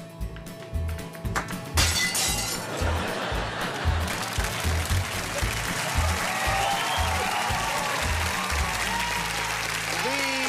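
A mishit golf shot smashes through a glass house window with a sharp shattering crash, followed by loud applause and crowd noise from a home-video comedy show.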